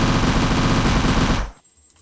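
Sustained burst of rapid automatic gunfire in the video game Travelers, loud and dense for about a second and a half, then cutting off into near silence.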